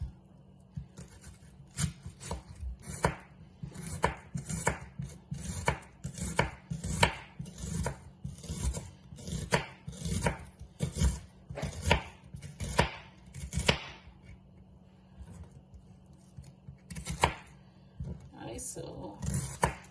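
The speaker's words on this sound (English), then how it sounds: "I'm going to cut this onion and also this piece of, not garlic, but ginger." A knife chops onion and a piece of ginger on a cutting board in a home kitchen, with dozens of crisp, fairly regular strokes in steady bursts, close and clear, and a few pauses between runs.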